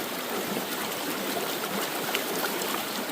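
A creek flows with a constant, even rushing and trickling wash of water, close by and steady, with no voices.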